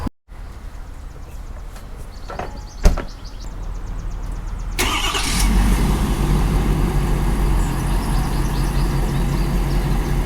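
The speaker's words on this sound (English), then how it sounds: "So Matthew's moving the truck because the neighbors asked last night if he would move it" A truck engine starts and runs at a steady idle while being moved, preceded by a door clunk and brief mechanical clicks, the engine rumble loud and close after starting.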